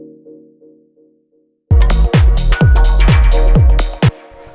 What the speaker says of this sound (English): The next sound we have here is the third chord stab